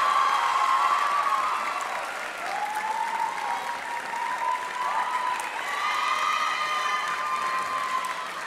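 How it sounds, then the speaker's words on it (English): A large audience at a 2017 awards event applauds Coach Krista Racine with steady, dense clapping mixed with cheers and whoops, sustained and loud throughout. "I would love if you would give a round of applause to Coach Krista Racine"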